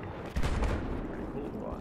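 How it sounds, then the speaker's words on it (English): An aircraft-dropped bomb going off in Battlefield 4, a single muffled boom with a rumbling tail heard at moderate distance amid battle noise. "Oh, that guy's dropping a bomb."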